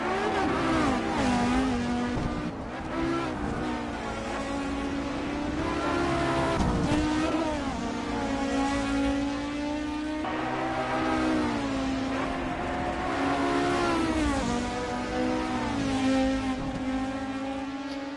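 A BMW M4 racing in the Assetto Corsa video game, its engine roaring steadily and loudly with rising and falling revs through gear changes, no voices.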